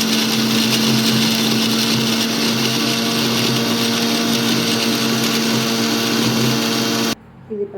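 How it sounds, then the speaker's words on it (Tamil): Mixer grinder jar blending chopped raw potato pieces, a loud steady high-pitched motor whine with dense grinding roar running continuously for about seven seconds before cutting off abruptly. "இதை ஒரு மிக்சி ஜாரில் போட்டு நல்லா அரைச்சி எடுத்துக்கோங்க."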